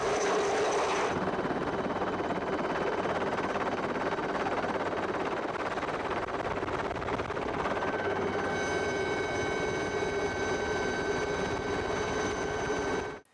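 Helicopter during a search-and-rescue operation, a continuous loud rotor and engine drone with whining tonal overtones that steadies after a brief shift early on, then cuts off abruptly at the end.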